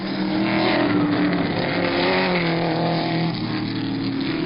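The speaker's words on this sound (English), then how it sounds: "with Kurt Ahrens also in a Porsche 917 a car length away in second." Porsche 917 race cars roar around Sebring during the 1970 twelve-hour race, a steady, continuous engine drone with a thin, band-limited archival quality.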